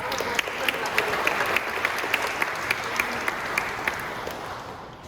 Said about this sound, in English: Let's give Larissa another round of applause